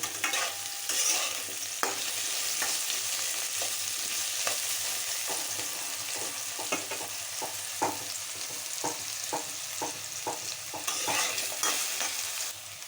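Potatoes frying and being stirred in a pan, a steady close sizzle with repeated scraping and stirring clicks throughout, no voices.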